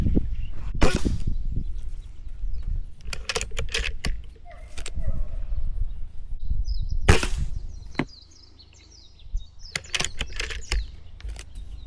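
Air Venturi Microstrike air pistol fired at a target, several sharp, loud, close pops spaced a few seconds apart, with quieter handling clicks and faint electronic beeps between the shots.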